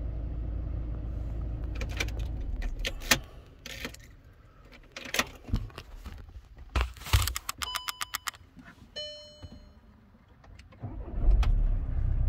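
A 2016 Seat Alhambra's engine starts during a brake fluid service: clicks and rapid cranking pulses, then the motor catches and settles into a running rumble that swells near the end.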